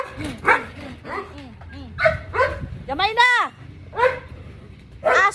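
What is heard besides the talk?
dogs barking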